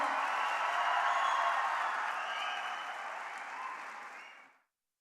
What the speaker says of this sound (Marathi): टाळ्यांचा गजर आपण करायचा आहे.